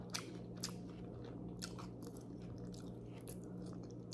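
Crisp crunching bites on a fried squash fritter, a few sharp crunches spaced apart over steady chewing, close and fairly quiet.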